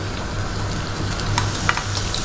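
Garlic frying in a pan gives a steady, close hiss of sizzling oil, with a few light clicks of a utensil near the end.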